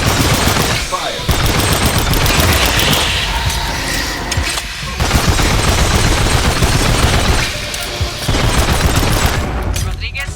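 Sustained gunfire in the Aliens: Fireteam Elite shooter game on PS5, loud continuous bursts in three long volleys with brief gaps, under faint voices.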